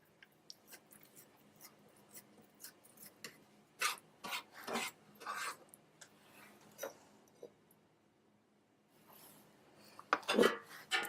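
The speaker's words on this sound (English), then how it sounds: "You may also mash with a fork" Cooked food mashed with a fork in a bowl for a baby's first solids, giving irregular soft scraping and tapping strokes, some louder bursts near the end, close up with no talking.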